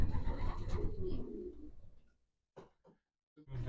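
Racing pigeons in a loft coo in a close, throaty rolling call lasting about two seconds, followed by a few soft, brief bird sounds and quiet gaps.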